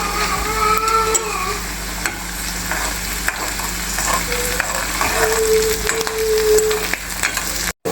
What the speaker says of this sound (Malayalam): ഇനി ചെറിയുള്ളി ഇട്ട് ഇത് വറ്റൽമുളകും കറിവേപ്പിലയാണ് ഇട്ട് കൊടുക്കുക ഇതൊന്ന് ഇളക്കി കൊടുക്കുക